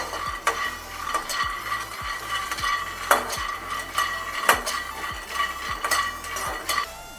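Peanuts roasting in a pan, stirred with a utensil that scrapes and knocks against the metal in regular strokes over a soft background sizzle, close and clear with no talking.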